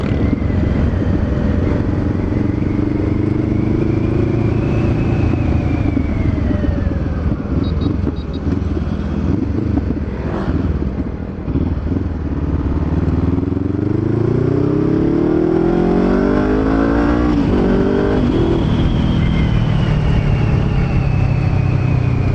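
A Honda CBR500R motorcycle engine drones loudly and continuously while riding, its pitch rising and falling as the rider accelerates and shifts, mixed with strong wind rush throughout.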